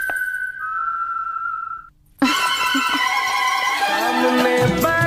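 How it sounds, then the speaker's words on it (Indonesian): A woman whistles a sustained tune in an Indian film scene, a clear steady whistled note that breaks off into brief quiet, then music with singing and instruments takes over. "Saat bersiul Puja lupa nadanya"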